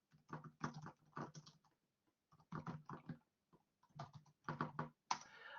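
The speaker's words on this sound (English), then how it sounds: "I'm typing something in here" Typing on a computer keyboard during a hands-on GPU programming practical: quiet bursts of rapid key clicks in several clusters, separated by short pauses, close and alone.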